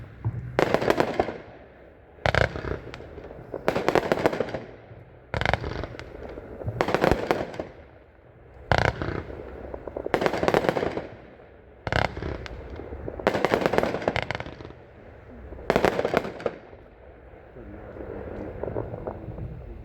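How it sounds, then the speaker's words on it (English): A 36-shot red, white and blue Gone Wild firework cake fires in about eight loud bursts of booming launches and crackling breaks, spaced a second or two apart across twenty seconds, with faint rumble between volleys. "36 shots of red, white, and blue. This is Gone Wild."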